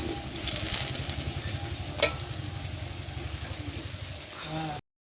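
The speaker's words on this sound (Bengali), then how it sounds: "এখন ফুলের বড়া করা হচ্ছে" Flower fritters fry on a clay stove, a steady sizzle with a brief sharp clink partway through, close and fairly loud, ending in sudden silence.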